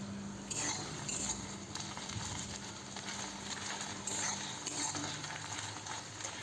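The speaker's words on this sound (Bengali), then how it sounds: "পেঁয়াজটাকে কিন্তু ভালো মতন বাদামি রঙে ফ্রাই করতে হবে।" Onions with cardamom, cinnamon and cloves stir-fried over a low flame in a pan, a steady soft sizzle broken by scraping and clinks of a spoon against the metal, with no talk.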